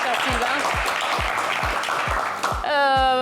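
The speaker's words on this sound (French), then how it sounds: "je voudrais qu'on vous ovationne, oui, qu'on vous applaudisse chaleureusement" Studio audience applause for a game show finalist, a steady wash of clapping from about half a second to two and a half seconds, with a host talking over it and then music cutting in at the end.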